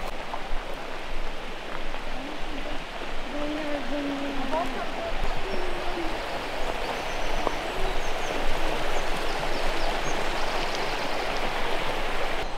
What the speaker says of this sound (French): on s'approche de la première cascade qui s'appelle la cascade de l'Éventail